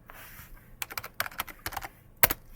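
Keys clack in quick irregular bursts on a computer keyboard as a Linux command is entered on an AMD BC-250 system, close and fairly quiet, with a sharper final keystroke like Enter near the end.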